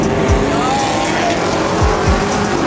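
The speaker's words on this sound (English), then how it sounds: "Damn, that Subaru is loud." A loud Subaru engine roars close by, rumbling throughout with a rising and falling drone as it drives past.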